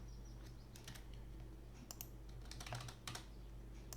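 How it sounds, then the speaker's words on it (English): Quick keystrokes tap on a computer keyboard in a few short bursts of clicks, with steady low background hum and no talking, as a copy-and-paste shortcut is typed while coding a C program. "let me cut or copy, Ctrl C, Ctrl V, the same code again"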